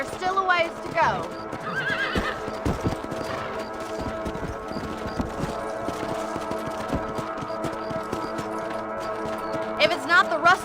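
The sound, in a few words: horse hooves and neighing in a video game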